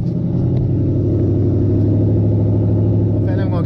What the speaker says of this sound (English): ever since I switched out the Magnaflows, my car hasn't been nearly as loud, of course, with the stock exhaust on